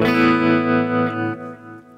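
Electric rhythm guitar played through effects pedals, a single strummed chord with distortion and reverb ringing out and slowly decaying, loud and alone.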